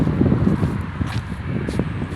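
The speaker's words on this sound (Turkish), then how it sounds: "Rüzgar da baya var." Gusty wind buffets the microphone, a constant low rumbling roar with fluttering bursts throughout.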